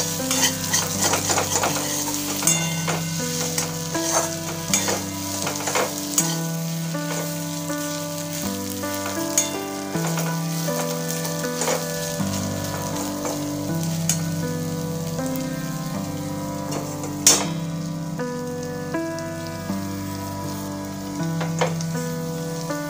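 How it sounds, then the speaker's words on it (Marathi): Okra fries in a pan, sizzling continuously and close, while a utensil stirs it with repeated scraping and clinking strokes throughout. "मध्ये मध्ये हे झाकण काढून भेंडी हलवून घ्यायची आहे"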